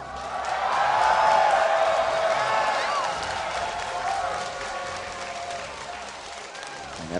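Esports fans at a PAX regional match between Counter Logic Gaming and Dignitas cheer and applaud, a loud, sustained wash of clapping and whoops that swells early and holds steady, with a voice talking over it.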